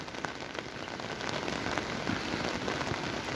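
Heavy rain falls during Hurricane John in a dense, steady hiss of drops hitting surfaces. It stays constant and fairly loud throughout, with no talking.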